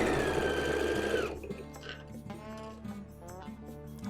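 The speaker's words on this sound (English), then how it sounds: "I'm going to sew right down the stitching line that I sewed my welting cord" Sewing machine stitching welting cord onto a flower applique pillow, running fast and steady for about a second, then slowing into separate rhythmic needle thumps, close and fairly quiet.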